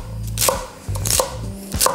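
A knife chops straight through a whole bunch of celery, leaves included, on a cutting board, giving a few sharp, close cuts with low board thumps between them and no talk.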